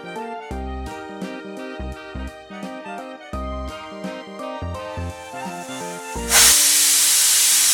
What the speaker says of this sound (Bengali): দুটো সিটি দিয়ে আমি ওভেনটাকে অফ করে দিলাম